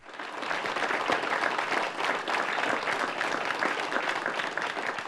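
A festive audience at a Slovenian folk music television show applauds the host municipality of Sveti Tomaž with dense, continuous clapping that stays steady and full throughout, with no talk over it.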